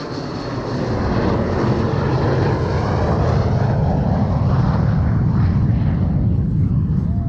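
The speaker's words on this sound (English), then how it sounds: "There goes another plane." Aircraft passing overhead near a river crossing at a Chicago obstacle race, a steady loud broadband roar that swells within the first second and holds through the rest, with no clear voices.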